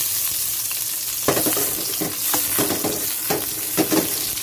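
Tomatoes sautéing in a pan for a Filipino pork belly dish (kinamatisang liempo), a steady close sizzle broken by several stirring scrapes and clatters, with no talking.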